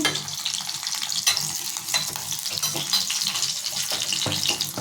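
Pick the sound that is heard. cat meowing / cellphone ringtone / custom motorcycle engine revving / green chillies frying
green chillies frying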